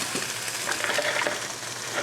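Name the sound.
sandwich filling grilling with a spatula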